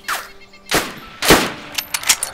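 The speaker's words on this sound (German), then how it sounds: "Ich hab grad einen Schuss gehört." Gunshots in the video game DayZ, a few sharp cracks spaced unevenly, followed by fainter rapid pops, moderately loud.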